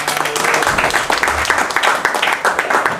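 Church congregation clapping and cheering for God in a loud, dense burst of applause with scattered shouts that carries on steadily throughout.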